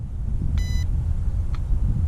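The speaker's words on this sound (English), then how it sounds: "first we're going to calibrate it right there, and it beeps at us" An HR H14 budget dual-camera GPS drone gives a short electronic beep during calibration, then a fainter second beep, over steady outdoor wind and rumble.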